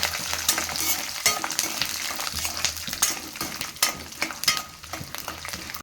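Peanuts, chili and spices frying in a pan for puffed rice upma, a continuous crackling sizzle with frequent stirring scrapes and light metallic taps, close and moderate in level, no voices.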